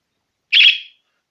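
A pet budgie gives a single short, shrill squawk indoors, a bright harsh burst lasting under half a second against otherwise silent surroundings.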